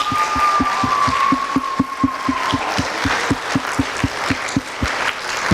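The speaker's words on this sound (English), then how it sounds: "giving them another round of applause" Audience applause for graduates at a commencement ceremony: a steady, rhythmic round of clapping, partly in unison, with a sustained tone from the sound system lingering underneath at first.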